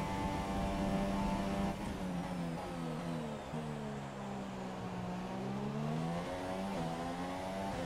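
F1 2017 video game race car on a straight at over 300 km/h, a high, steady engine whine with rising and falling harmonic tones as gears shift, loud and continuous with no voices.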